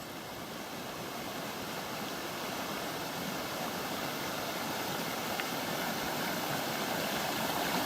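Creek water flowing near Fairy Bower Falls, a broad continuous rushing wash that holds steady throughout, moderately near with no voices.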